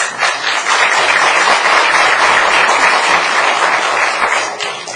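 An audience at a county planning and zoning commission meeting bursts into loud, sustained applause, a dense wash of clapping that holds steady and then tapers slightly at the end.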